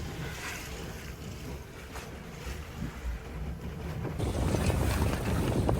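Heavy motor sailer under sail in light wind, with steady wind rush and water washing along the hull that swells louder and closer toward the end.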